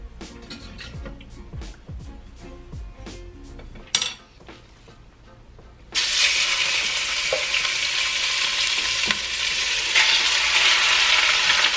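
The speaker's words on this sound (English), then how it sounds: "this is why you want to use a wooden spoon, because it's gonna be able to break up the meat" Meat frying in oil in a home kitchen, stirred and broken up with a wooden spoon: scraping and clinking strokes, then a loud, steady sizzle that fills the rest of the clip with no talk.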